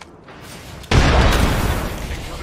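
A frag grenade explodes in a first-person shooter video game, a sudden loud boom that bursts after a quiet moment and rolls off slowly into a broad rumble.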